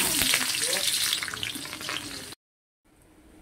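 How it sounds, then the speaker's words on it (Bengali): Loud, steady sizzling of chopped onions frying in a pan for about two seconds, then sudden silence before a faint hiss returns. "প্রথমে পেঁয়াজটা দিয়ে দিচ্ছি"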